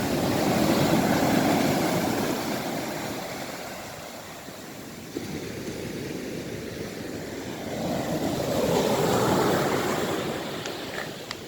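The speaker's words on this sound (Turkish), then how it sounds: "Karadeniz'in ırçın dalgaları." Black Sea surf washes onto the beach at Yalıköy in slow surges, swelling, fading and rising again in a steady roar with no voices.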